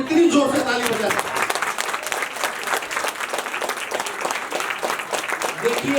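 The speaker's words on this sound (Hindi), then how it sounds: "मैं चाहता हूं इनके लिए एक बार कितनी जोर से ताली बजा सकते" Loud, dense clapping from a seated audience at a Shrimad Bhagavat katha gathering in Bhayandar, continuous and close with distinct individual claps throughout.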